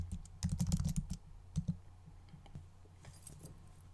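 Typing on a computer keyboard: a quick burst of close, crisp key clicks, then scattered single taps trailing off, quiet and alone.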